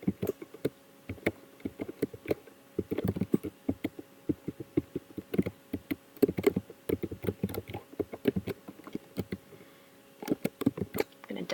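Rapid keystrokes clatter on a computer keyboard in uneven bursts, with a short pause near the end before typing resumes, close and clear with no voices.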